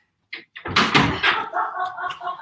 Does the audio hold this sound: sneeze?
no